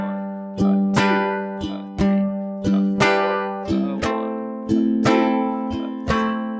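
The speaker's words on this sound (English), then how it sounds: "we're going to strum slightly harder on those to give it a backbeat" An acoustic guitar strums a steady chord pattern, with every other stroke hit harder to give a sharp, accented backbeat.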